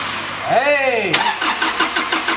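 A Toyota Land Cruiser's engine cranks with a rising whine, then catches and settles into a steady running note; a voice is heard over it.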